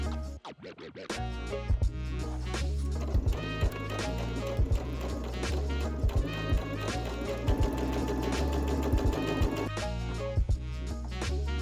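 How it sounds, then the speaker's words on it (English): A sewing machine stitches around the neckline of a tie-front vest, running in a steady, rapid chatter with brief pauses beneath continuous background music. "sew around the neckline, leaving a 1 cm or 3/8 of an inch gap at each end."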